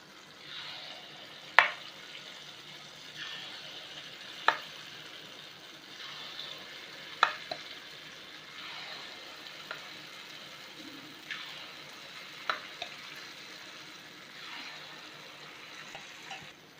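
Banana wheat appam batter cooks in a pan over medium heat with a soft, steady low sizzle, broken by a handful of sharp clicks and taps spaced several seconds apart.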